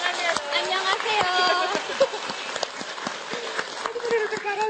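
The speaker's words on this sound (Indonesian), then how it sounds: "Tepuk tangannya." A studio audience claps steadily throughout a talk-show segment, with the applause carrying under a voice.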